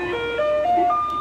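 A garbage truck in Taiwan plays its melody on approach, a steady electronic tune with sustained stepping tones, moderately loud and close, with no talk over it.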